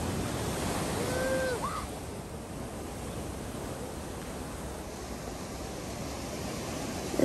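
Ocean surf rolling onto Copacabana beach in Rio de Janeiro, a steady broad wash of waves heard alone and fairly close, with a faint brief whistle-like tone early on.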